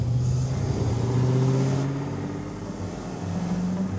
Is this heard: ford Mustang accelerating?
yes